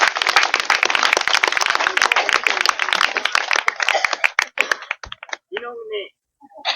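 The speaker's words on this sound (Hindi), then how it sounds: "चलिए ताली बजा दीजिए।" At a Christian church betrothal ceremony, a congregation claps in a dense, loud burst of rapid hand claps that thins out after about five seconds, followed by a few scattered claps and brief voices.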